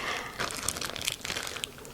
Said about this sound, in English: So I'm going to take the candies out of the plastic wrap and then just place them into my small Ziploc bag.